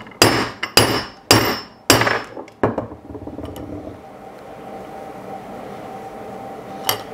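A hammer strikes rivets into a leather dog leash in a workshop, five sharp close blows in quick succession, then quiet handling and a faint background hum with one more light tap near the end.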